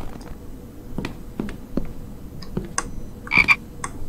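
Frogs croak in a survival video game, a handful of short separate calls spread across the moment with a louder double croak near the end, set against quiet ambient noise.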